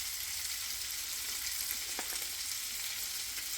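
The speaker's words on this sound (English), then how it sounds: "But now I'm going to put my sausages in here" Sausages frying in hot oil in the same pan as bacon give a steady, close sizzle with a faint clink of a utensil midway.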